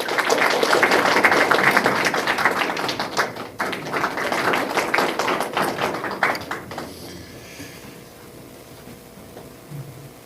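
Dense applause from an audience at a launch ceremony of a Korean memorial association's Ulsan branch, welcoming a speaker; loud, sustained clapping for several seconds, then fading away into quiet room tone.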